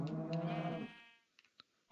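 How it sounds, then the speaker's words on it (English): A Minecraft cow lets out one long, low, clear moo in the game world, followed by a few faint clicks and then quiet. "I like the flood cows."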